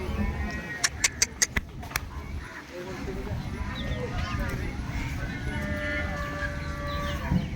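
Cattle at a busy livestock market for HF dairy cows, with a steady crowd murmur, several quick sharp knocks early on and an occasional faint moo, under distant voices.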